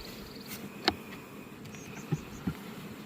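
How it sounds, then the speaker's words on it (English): Honey bees buzzing around beehives during a honey flow, a faint continuous drone in the open air with a few brief louder insect passes close by. "Lots of bees though."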